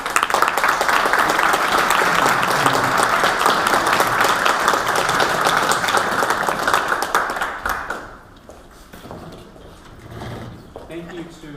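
Audience at a Baltimore peace dinner claps in sustained, dense applause to welcome a speaker, loud for about eight seconds before fading into quieter room sounds.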